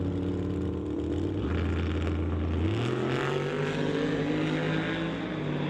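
A 1981 Chevy Malibu turbo drag race car at a drag strip, loud and steady with a droning engine roar whose pitch climbs and shifts partway through, continuous throughout with no voices.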